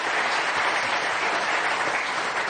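Studio audience applause on a French Sunday TV talk show: dense, steady clapping that fills the whole stretch at an even, loud level, with no voices over it.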